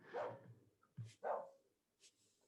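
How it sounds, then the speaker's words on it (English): A pet dog barks indoors: a few sharp, fairly close barks spaced over a couple of seconds, with brief quiet gaps between them. "My dog is barking at something."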